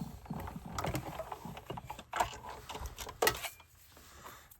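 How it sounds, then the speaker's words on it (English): A die cutting machine runs red cardstock through its rollers, giving a quiet, steady mechanical whir with soft clicks and a couple of sharper clunks, fading out at the end. "I will run that through the die cutting machine"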